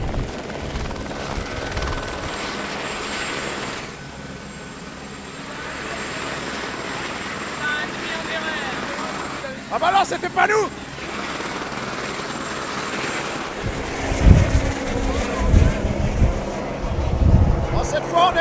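A helicopter at a WRC rally in Corsica, tied to Toyota, drones steadily with a continuous rotor and engine roar throughout, while people talk over it in French.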